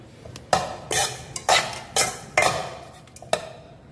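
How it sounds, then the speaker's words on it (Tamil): Cauliflower rice with roasted cashews being mixed in a pan, a spoon or spatula clanking against the metal in about seven separate scrapes and knocks, close and clear with no talking. "இந்த சாதத்தை நல்லா இந்த காலிஃப்ளவரோட மிக்ஸ் பண்ணிக்கலாம்"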